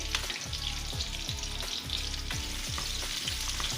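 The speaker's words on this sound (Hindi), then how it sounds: "ऑयल हमारा गर्म हो गया है बिल्कुल और इसके अंदर अब हम ये प्याज डाल देंगे और इसको अब हम मिक्स करेंगे" Onions fry in hot oil for a restaurant-style chicken jalfrezi, giving a dense, loud sizzle while a spoon stirs them in steady, repeated scraping strokes about twice a second.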